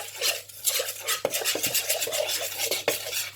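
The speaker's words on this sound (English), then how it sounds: "you're just going to mix around the sugar in the bowl with the flour" Steady scraping and clinking of a knife stirring sugar and flour in a bowl, with a few sharper taps against the side; close and fairly loud.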